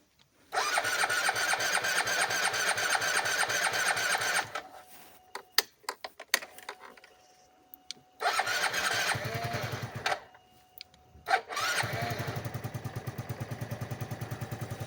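Yamaha Jog scooter engine starting in freezing frost: a buzzing two-stroke idle runs steadily, cuts out into short bursts and silences, then catches again and settles into a steady idle.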